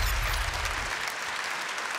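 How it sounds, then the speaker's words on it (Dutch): Applause from an audience at a sports gala, a dense patter of clapping that holds steady for two seconds with no voices over it. "Hartelijk applaus voor deze kandidaten."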